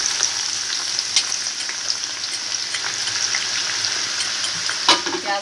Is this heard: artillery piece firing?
no